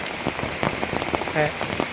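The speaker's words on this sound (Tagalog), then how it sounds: "Kay ulan namang gyud, kusog kayo ang ulan" Steady heavy rain drums close by on a surface, a dense wash of hiss broken by sharper drop impacts, with no one speaking.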